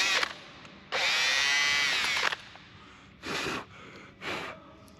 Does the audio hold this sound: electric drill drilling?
yes